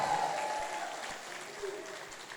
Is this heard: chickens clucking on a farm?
no